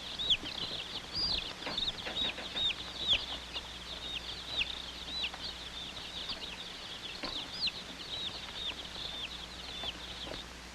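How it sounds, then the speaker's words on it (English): A box of baby chicks peeps continuously, a dense cluster of high, overlapping chirps at steady loudness, heard alone with no voices. "Fragile items like this box of chicks were put aside to be placed on top of the pile."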